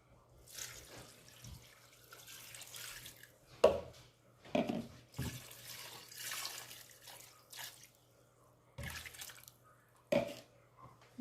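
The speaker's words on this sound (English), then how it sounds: "I'm going to add in my water." Water poured into a pot of zobo ingredients, including hibiscus, lime and lemon peel and ginger, in splashy bursts of pouring and sloshing with short pauses between, fairly quiet and close.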